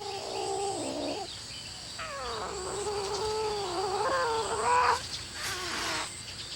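Female and male cats courting, with drawn-out wavering yowls and caterwauls that rise and fall in pitch, loud and close, one cry after another with short gaps and no talk.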